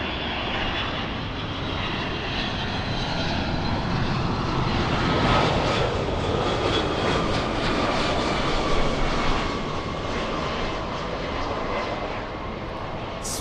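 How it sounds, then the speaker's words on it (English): A Boeing 757 sports charter jet on short final roars as a broad, steady, loud rumble with a faint whine, growing slightly stronger midway as it passes close overhead. "All right, let's go for the 757 short final."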